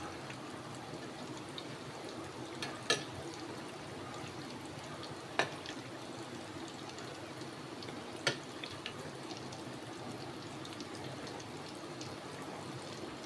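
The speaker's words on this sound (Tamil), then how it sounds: "ரெண்டு நிமிஷம் மீடியம் ஃப்ளேமில் வச்சு பொரிச்சு எடுத்துக்கலாம்." Green gram susiyam dumplings fry in oil over a medium flame, giving a faint, steady bubbling hiss across the whole stretch, with a few brief sharp clicks standing out.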